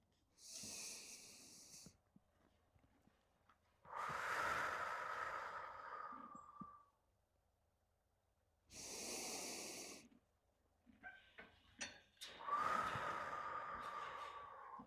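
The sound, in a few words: horse blowing out, snorting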